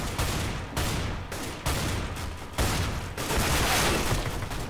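Rapid bursts of gunfire from a CS:GO match, including an Uzi and a shotgun, crackle in several loud separate volleys with brief gaps between them.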